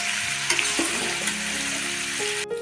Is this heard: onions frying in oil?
yes